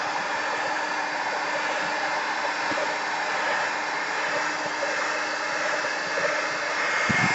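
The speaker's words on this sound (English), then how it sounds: "it's called an embossing heat tool. But it works great and it gets really hot" A hot craft embossing heat tool blows a steady, loud broadband rush of air with a faint motor hum, running continuously throughout without pause while it dries a craft project.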